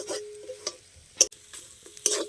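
A spatula stirs tomato chop filling in a pan, making several separate scraping strokes with light sizzling between them, close and fairly clear, with no voice.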